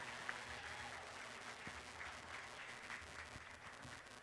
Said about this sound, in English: Let's give him a giant round of applause.